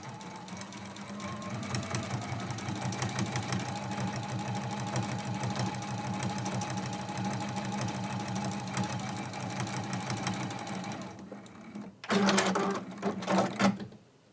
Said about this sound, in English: we are sewing that with a 1/4 inch seam